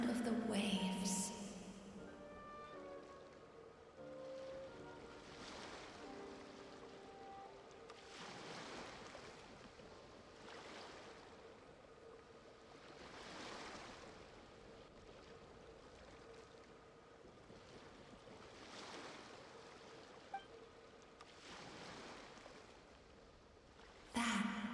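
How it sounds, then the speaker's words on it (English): Ocean waves from the Genshin Impact video game swell and wash in a slow repeating rhythm, a soft steady surf with wind and faint game music at the start, no voices. "Go to where you can hear the sound of the waves."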